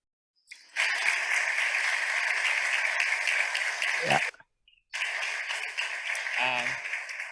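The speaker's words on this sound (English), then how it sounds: "please, applause." A summer school lecture audience applauds: a sudden, even burst of many hands clapping, fairly faint, breaks off for a moment near the middle with a short voice, then resumes with a brief spoken phrase under it.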